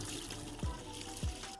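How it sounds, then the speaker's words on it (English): Water is poured into a bucket, a soft, steady trickle and splash up close with two brief gurgling dips, quiet and with no voices. "I'm going to take a bucket. I'm going to put 4 cups of water."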